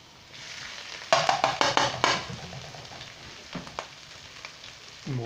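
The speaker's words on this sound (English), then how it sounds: "And we'll get that frying up." Garlic and ginger sizzle in a frying pan as a spring roll filling gets started, with a quiet hiss that erupts into loud, crackling bursts and then settles into softer spitting and stirring.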